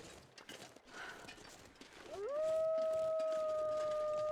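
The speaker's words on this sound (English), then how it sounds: "Oh, I heard a wolf." A timberwolf in The Long Dark lets out a long, clear, rising howl that levels into a sustained tone, entering after faint ambient rustle and growing loud and near, with no talking over it.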